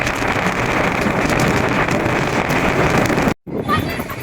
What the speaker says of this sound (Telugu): వర్షం లేదు, జస్ట్ గాలి అయితే వస్తుందంటే.